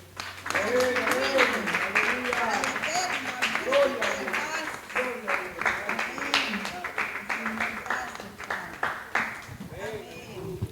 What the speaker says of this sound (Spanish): Pero démosle un fuerte aplauso al alto.